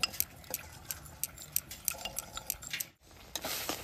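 A spoon clinks steadily against a bowl while stirring cornflour and water for raw mango aamsotto, quick rhythmic taps close up with a faint wet swirl.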